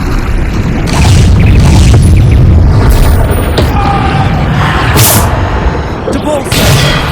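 Bombarda blast spells going off in the Hogwarts Legacy video game: a continuous barrage of loud booming explosions with crackling debris, layered among shouted spell incantations throughout.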